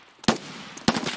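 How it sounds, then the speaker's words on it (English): Two sharp gunshot bursts in the video game Escape From Tarkov, about half a second apart, loud and close, with no talking. "I hear you shooting."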